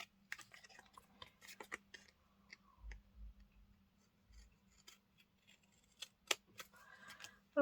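Scissors trim the edges of washi tape in a quiet room, producing a scattered series of small crisp snips and clicks, some in quick clusters, with pauses between.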